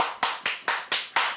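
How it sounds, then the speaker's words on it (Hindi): One person claps their hands six times in a slow, even rhythm, each clap sharp and close with a short decay, no voices between them. "ताली क्या बजा रहा है?"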